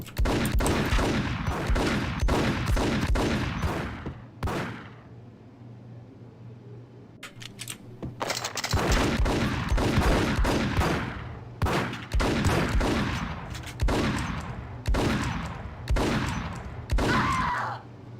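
Gunfire in the PC shooter Max Payne from a Desert Eagle and dual Berettas: loud, rapid bursts of shots in quick succession, a brief lull of a few seconds, then more steady volleys.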